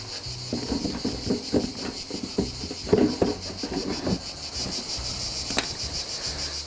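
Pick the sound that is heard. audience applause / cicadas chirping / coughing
cicadas chirping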